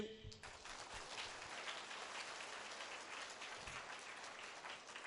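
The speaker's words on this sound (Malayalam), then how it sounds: "ക്രിസ്തുവിൻ്റെ സ്വഭാവം പ്രകാശിപ്പിക്കുക ഒന്ന് കൈയടിച്ചേ" A church congregation claps during a sermon, a dense, steady burst of applause lasting several seconds, heard from some distance and fairly faint.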